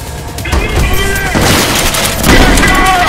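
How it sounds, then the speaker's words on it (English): Grenade blasts in the first-person shooter Trepang2, a run of loud booming bursts and gunfire-like cracks that keep overlapping with little letup across the stretch. "Throwing all the grenades I got at him."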